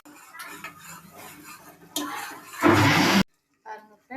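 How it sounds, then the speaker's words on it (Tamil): Ground masala added to hot groundnut oil in a cooker sets off a loud burst of sizzling and spluttering lasting about half a second, cut off abruptly; a voice talks before and after. "இப்போ எண்ணெய் காஞ்ச உடனே நம்ம அரைச்சி வச்ச இந்த மசாலாவை இதில் சேர்த்துக்கலாம்."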